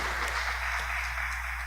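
Continuous applause from a church congregation at a Portuguese-language faith campaign service, a dense steady clapping that fills the whole short moment without speech.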